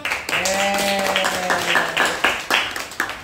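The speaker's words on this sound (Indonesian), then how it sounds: "Tepuk tangan untuk Siva dan teman-teman." A high school informatics class claps for a group of students, a short burst of uneven hand claps under a voice that carries across the room.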